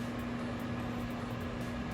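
A steady, low electrical hum with a constant mechanical drone, like a microwave oven running, unchanging throughout.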